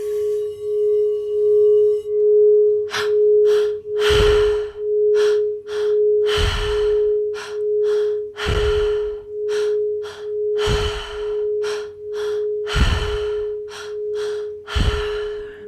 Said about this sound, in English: In through the belly, in through the heart, and out through the mouth.